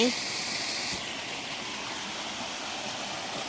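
Steady broadband rush of a small waterfall in a Thai flower garden, continuous and fairly loud throughout with no pauses, like falling water running over rocks nearby.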